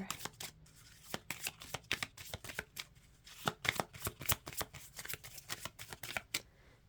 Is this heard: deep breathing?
no